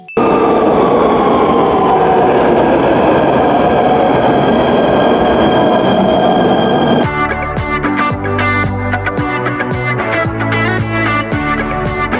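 A train rumbles loudly and steadily, then music takes over partway through with plucked, rhythmic notes.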